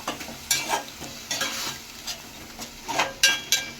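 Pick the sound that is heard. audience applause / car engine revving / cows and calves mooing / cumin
cumin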